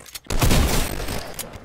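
Gunfire in the Fortnite video game: a burst of rapid shots fires loudly after a short quiet gap, then trails off into a lighter rattle, with no talk.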